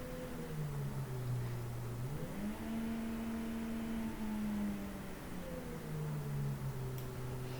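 A brushless DC motor runs with a steady whine whose pitch dips, rises and then falls again as its speed changes, constant and fairly faint throughout.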